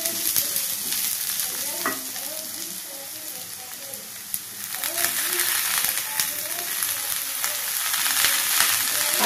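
Bitter gourd and potato frying in a pan for palya, a continuous close sizzle with a spatula scraping and stirring at intervals, the frying growing slightly louder near the end.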